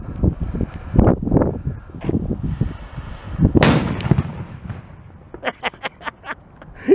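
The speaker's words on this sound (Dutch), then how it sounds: "Heerlijk knallers." Cipolla and Polenböller firecrackers set off outdoors make a rapid series of loud, close booms, then a pause and a run of sharper, separate cracks.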